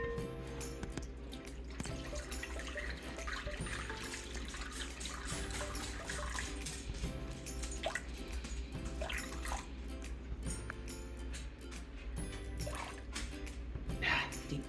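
Warm water is poured into a sourdough mix in a home kitchen, a faint trickling and dripping against a quiet background with light clatter, soft and near, with no speech over it.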